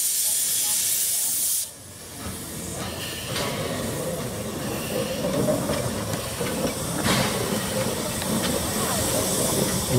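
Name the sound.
steam locomotive No. 20 hissing steam while being shut down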